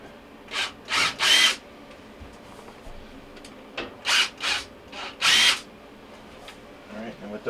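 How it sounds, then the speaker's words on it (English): Power drill backing out screws from the back panel of a Frigidaire dryer, several short close whirring bursts in two clusters with quiet gaps and handling noise between. "There are 2 screws on the back that we'll take off first."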